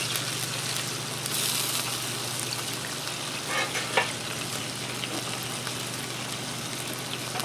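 Meatloaf burgers sizzle loudly and continuously on a Blackstone griddle after being flipped, with a brief clack from a spatula partway through and no talk over the frying.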